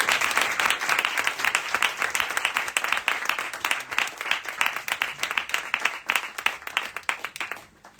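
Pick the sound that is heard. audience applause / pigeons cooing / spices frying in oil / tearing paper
audience applause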